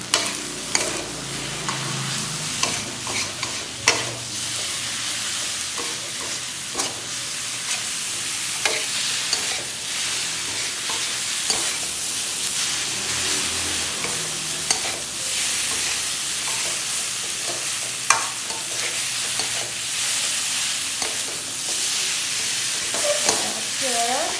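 Pad thai stir-fried with garlic chives and bean sprouts sizzles steadily in a hot pan, with frequent spatula scrapes and clinks punctuating the close, continuous frying throughout.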